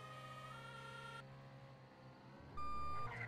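Electronic beeps and a tonal siren from an ambulance in the Roblox video game, with a steady tone that cuts off and then a louder, higher beep near the end over a low vehicle hum.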